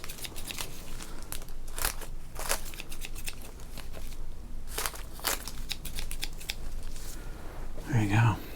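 Scissors snip through the crinkly wrapper of a baseball card pack, with a run of crisp, close cuts and rustling. A soft voice talks over the snipping in places.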